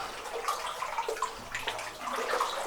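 Splashing and sloshing of cold water as someone wades through a flooded mine with old rails inside, close and continuous with uneven surges of movement.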